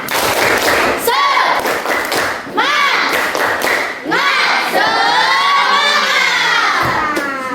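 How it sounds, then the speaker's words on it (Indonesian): A classroom of children performs a rhythmic spirit clap, sharp synchronized claps and thumps alternating with loud shouted chanting voices, close and energetic throughout. "kita tepuk semangat dulu ya"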